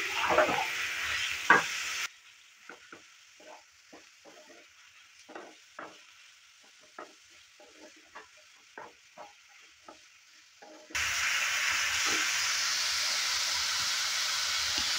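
Grated squash drops into a hot frying pan with a loud sizzle, then a quieter stretch of repeated spatula scrapes and stirring clicks before the hiss swells again, no voices.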